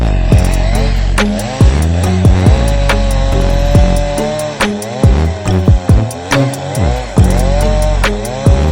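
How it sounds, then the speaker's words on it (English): Trees being chopped down in Minecraft, heard as a loud, continuous buzzing drone that repeatedly dips and rises, with rapid block-breaking pops layered over it and accompanying game sounds. "it's time to get our magical tree chopping skills back to work"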